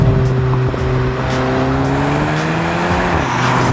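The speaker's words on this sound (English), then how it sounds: "Listen to that sport exhaust." A 2023 Volkswagen GTI's sport exhaust drones steadily up close, its note rising slowly in pitch with no talking over it.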